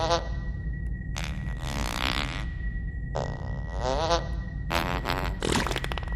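Cartoonish fart sound effects from the video game Fable 2, several loud, buzzy blasts of varying length repeating over a constant background hum.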